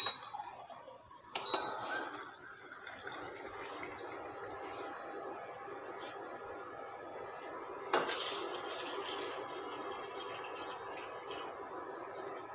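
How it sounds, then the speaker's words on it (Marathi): Two glasses of water are poured into a small pan on a kitchen counter, a soft running splash with a couple of sharp clinks as the glass touches the pan, fairly quiet and with no speech. "साधारण इथं आहे ना मी 2 ग्लास पाणी टाकून घेणार आहे."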